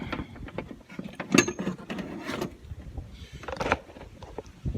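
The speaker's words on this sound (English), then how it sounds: "Now it's time to pull the old regulator out" Old car window regulator being pulled out of a door, a scatter of metallic clanks, scrapes and rattles of cables and brackets at close range, uneven and intermittent with quiet gaps.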